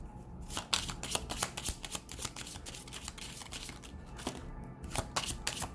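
A deck of oracle cards is shuffled by hand for a reading, giving quick, crisp repeated riffling and slapping bursts close up, with no talk.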